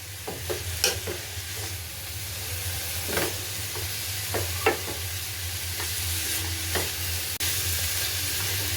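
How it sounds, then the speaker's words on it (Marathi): Grated carrot sautéing in ghee for carrot halwa, a steady close sizzle with repeated scraping stirs of a spoon across the pan at irregular intervals throughout. "आणि तुपावर तो छान परतून घेणार आहोत."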